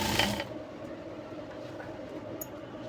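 A sewing machine stitches fabric for a jumpsuit: a brief louder whirr at the start settles into a low, steady mechanical hum nearby.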